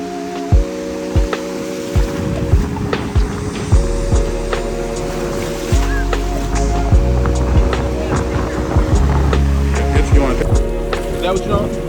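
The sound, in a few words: ocean waves breaking at beach in Hua Hin, Thailand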